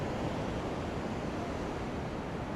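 Surf rolling in at Freedom Beach in Phuket, Thailand, a constant loud wash of waves mixed with wind buffeting the microphone, with no pauses or voices.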